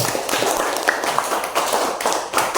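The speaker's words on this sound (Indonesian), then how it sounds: "tepuk tangan untuk kelompok 3" Classroom applause for a student group during an Indonesian religious lesson on the prophets, a dense patter of many hands clapping close by, steady for a couple of seconds.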